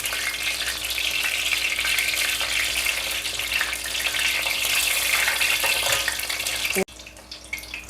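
Food frying in a wok, crisp fritters sizzling loudly and steadily at close range with no talk, until the sizzle cuts off abruptly near the end, leaving a quieter hiss.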